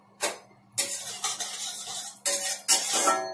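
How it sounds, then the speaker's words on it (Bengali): Fried cumin and spices get stirred in a pan, with several bursts of spatula scraping and clatter separated by short pauses, close and moderately loud. "জিরাটা ভাজা হয়ে গেছে আমি এখন মশলাটা দিয়ে নেড়ে চেড়ে এটাকে দিয়ে দিই"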